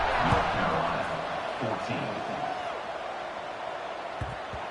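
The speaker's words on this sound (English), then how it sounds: "this crowd is buzzing after that last score" A stadium crowd buzzes during College Football 26, North Carolina vs. Clemson, after a score: a steady broad murmur with a few low thumps under a commentator's voice.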